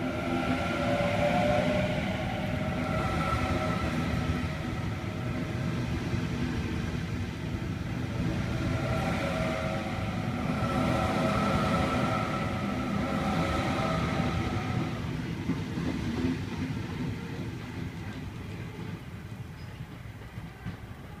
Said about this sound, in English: Waratah A76 departing platform 2 here at Richmond for a Hornsby via Macquarie Park service.